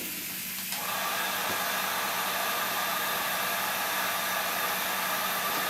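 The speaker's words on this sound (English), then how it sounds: "I'm going to turn on the heat gun, and you'll be able to hear that" A heat gun switches on and runs, a loud steady blowing roar and hiss that starts abruptly and continues unbroken and close.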